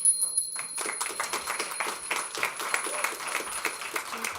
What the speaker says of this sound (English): I just heard the bell, so also perfect timing.